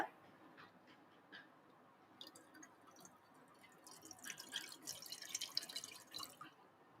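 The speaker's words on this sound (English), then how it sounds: "we're going to put some water" Water poured into a granite pan steamer, a faint trickle that swells into brighter splashing over several seconds, quiet and close, with no voices.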